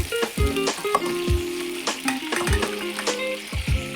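Steady frying sizzle of fish in a pan with clinks of a utensil striking metal every second or so, close and fairly loud, no talking.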